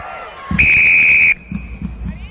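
A referee blows a single long, piercing whistle blast for the second-half kickoff at a women's Premiership rugby match between Saracens and Gloucester-Hartpury, with crowd noise and thuds around it.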